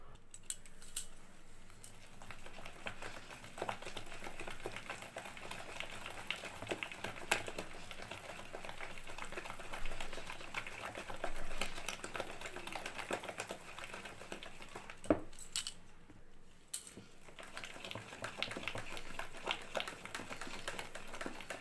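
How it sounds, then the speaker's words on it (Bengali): Ground biuli (urad) dal batter whisked by hand in a large bowl, a steady run of quick, close scraping and tapping strokes that continues without pause, with a brief lull near the end before the rhythm resumes. "এবার আমি এই ডালের বাটাটা ভালো করে ফেটিয়ে নেব, 5 মিনিটের মতো ফেটাবো"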